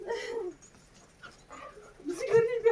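A dog whimpers and yelps in short, high whines close by, with a louder whining cry toward the end.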